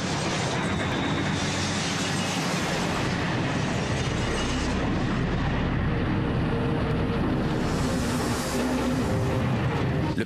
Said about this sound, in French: L'avion touche le tarmac.